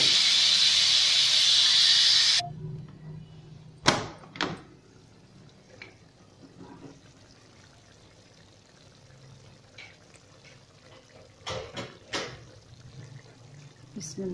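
A pressure cooker is opened: a loud, sustained steam hiss blasts for about two seconds, then stops, followed by quiet clanks and knocks of metal handling.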